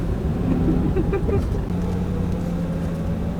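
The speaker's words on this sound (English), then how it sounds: "Gonna be stuck in traffic for a while." Steady low rumble of road traffic in a jam with engine drone, heard from inside a van, close by and continuous, with faint indistinct noises over it.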